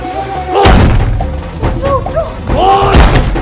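A door in a Bollywood comedy film scene is banged and slammed, giving heavy thuds at the start and again near the end while someone shouts over them.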